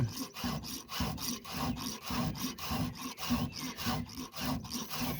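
A hand file rasps across the teeth of a Husqvarna 394xp chainsaw chain, about a dozen even back-and-forth strokes in a steady rhythm, close up and fairly quiet with no talking.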